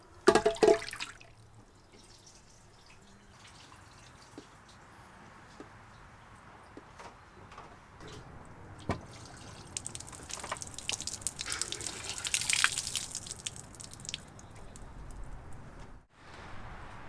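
A cup of water poured into a newly installed sink, trickling and gurgling faintly down the drain in a quiet room, with a brief rushing swell partway through and a single knock near the end.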